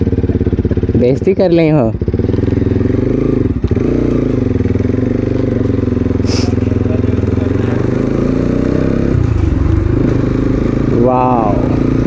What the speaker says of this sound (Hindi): तो चलो चलते हैं और लाउड्स एग्जॉस्ट का सुनो